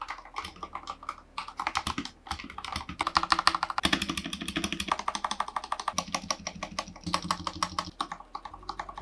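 Rapid typing on a Vissles 75% mechanical keyboard with Drop black-on-white keycaps, a dense run of crisp, close clacks in bursts with brief pauses, no voices.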